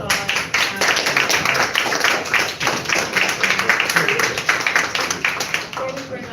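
A community peace summit audience claps for Chaz, a loud, dense, sustained round of applause filling the room from start to finish.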